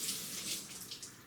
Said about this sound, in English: soak it in some cool water